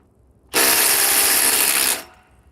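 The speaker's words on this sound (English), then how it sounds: "Now let's see if the new Bosch impact driver will loosen it." A new Bosch impact driver loosens a fastener in one continuous burst of about one and a half seconds, starting abruptly and cutting off sharply, loud and close with no talk over it.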